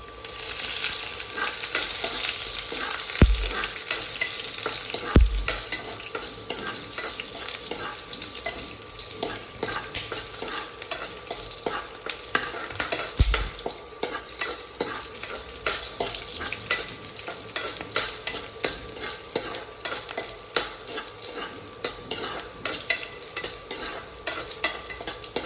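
Curry leaves, chopped chillies and a small piece of ginger frying in oil for a Kerala-style fish curry with coconut milk, a loud, steady crackling sizzle with occasional stirring knocks and scrapes against the pan, no voices.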